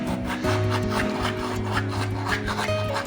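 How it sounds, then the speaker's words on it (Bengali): Dry rubbing of spices into flour by hand — chili flakes, ajwain, black cumin and fennel worked into masala paratha dough — producing a continuous close gritty scraping texture. "ভালো করে হাতে ঘষে দেবো"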